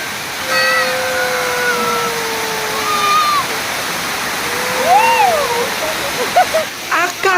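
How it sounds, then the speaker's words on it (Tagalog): Gabor Gabor Falls waterfall rushing steadily throughout, a broad continuous roar of falling water with excited voices talking and whooping over it. "experience Gabor Gabor Falls!"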